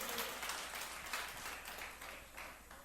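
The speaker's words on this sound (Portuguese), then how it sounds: "Aplauda bem forte." A church congregation claps steadily during a worship service, a dense, moderately distant patter of many hands that stays even and fades slightly near the end.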